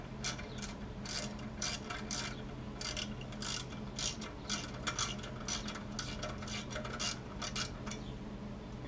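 Ratchet working a rounded bolt on the brakes of a Mercedes W211 E55 AMG, a steady run of quick clicking pawl strokes over about nine seconds, close and clear, no talking.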